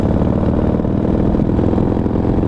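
Harley-Davidson Dyna motorcycle with a freshly built 107 engine, still being broken in and held under about 4,000 RPM while riding, giving a steady, continuous low rumble close by with no talk.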